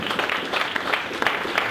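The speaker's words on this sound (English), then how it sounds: "Let's give her a big round of applause" A small audience applauds to welcome someone speaker at a talk: a short, even patter of clapping at moderate volume, steady for under two seconds.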